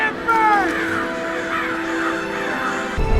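Crow cawing in a war-of-the-worlds action film soundtrack, a few harsh calls with sliding tones over a steady droning score, with a person's voice talking underneath.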